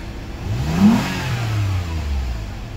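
A Toyota Alphard engine running after starting, recorded close and loud, with a steady mid-pitched hum and a brief swell as it revs slightly before settling.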